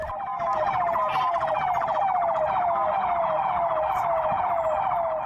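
A loud siren wails continuously, its rising and falling tone sweeping over and over without pause, close by and dominating everything else.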